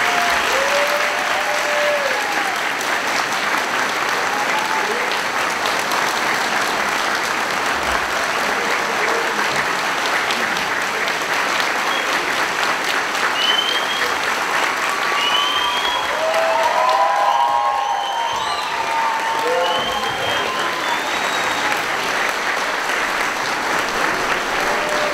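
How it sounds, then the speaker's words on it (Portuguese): An audience in Feira de Santana, Bahia applauds steadily to welcome a speaker at a lecture, dense continuous clapping filling the hall with a few scattered whistles and shouts. "recebam com uma salva de palmas nesse momento, Joaquim Barbosa."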